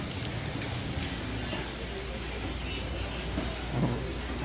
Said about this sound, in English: And lots of rain.